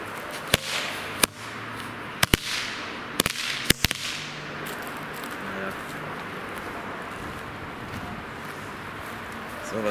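A large firework bang repeatedly: several sharp, loud cracks crowd the first four seconds, followed by a lingering crackle and hiss that fades over the rest.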